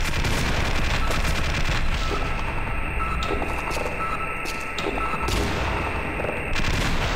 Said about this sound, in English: it's a turret